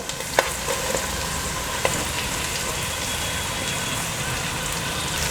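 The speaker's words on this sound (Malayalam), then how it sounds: "ഈ സമയം ഒരു 2 വലിയ സവാള സ്ലൈസ് ചെയ്തതാണ്, അത് ചേർത്ത് കൊടുക്കാം" Two large sliced onions frying in oil in a pan for jackfruit biryani make a dense, steady sizzle up close, with a few light taps of the stirring spoon early on and no voices.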